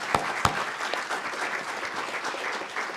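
Audience applause for panelists at a Montreal urban-affairs discussion, a steady dense patter of many hands with a couple of sharp louder claps near the start, continuing evenly throughout without speech.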